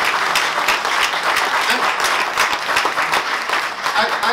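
A conference audience applauds steadily, a dense, even wash of clapping that stays loud and continuous throughout.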